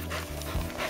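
A dog pants steadily and close by in damp woodland during an autumn mushroom hunt for ceps, with quick, even breaths over a low outdoor background and no talking.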